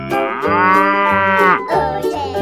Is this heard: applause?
no